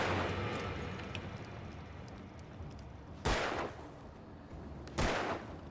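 Two sharp gunshots ring out in the Alan Wake video game, spaced under two seconds apart and standing out over a steady, murky background rumble.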